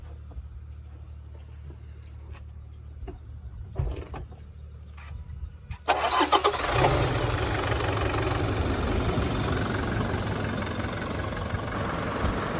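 A Toyota Fortuner 2022 4x4 automatic's 2.8-litre diesel engine turns over with a short starter whirr after a few quiet clicks and knocks, then settles into a steady, fairly loud idle that drones on alone.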